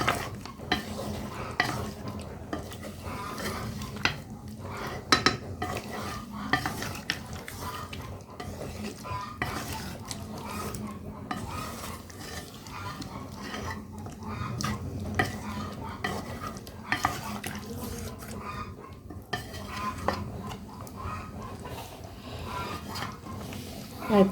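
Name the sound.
stirring beef curry in a pan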